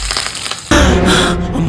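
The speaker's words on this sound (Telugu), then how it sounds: "ఇప్పుడు మిక్సీ వేయాలి." A kitchen mixie grinder starts abruptly partway through, grinding roasted peanuts into a loud, dense, steady crushing whir that continues to the end.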